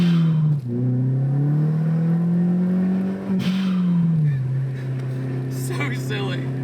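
An MK4 Volkswagen Golf GTI turbo car pulls away from a dead stop, its engine droning steadily with a rising pitch, close and loud, while a voice talks over it.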